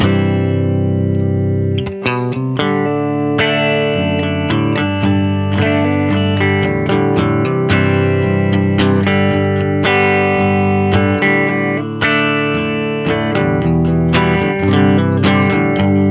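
Electric guitar played through a Plexi amp with all pedals switched off, a steady stream of chords and notes ringing with slight grit, loud and upfront, no talking.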